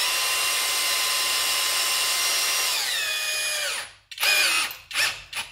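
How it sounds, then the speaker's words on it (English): A power drill drives a bolt into the bottom grip assembly of an Apache TEDAC build: a steady high whine that drops in pitch as it tightens, cuts out, then two short follow-up bursts. "So now I can screw it in."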